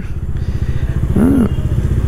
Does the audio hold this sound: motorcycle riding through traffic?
yes